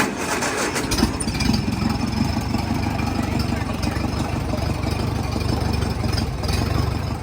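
A 1949 Allis-Chalmers G tractor engine catches and runs, settling into a steady, loud, low chugging rumble that continues without a break.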